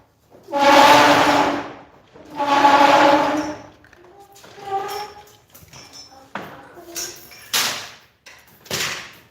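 A door opens with two long, loud metallic groans or horn-like blasts, followed by quieter clunks, creaks and scattered knocks.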